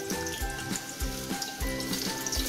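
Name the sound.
onions added to hot oil, frying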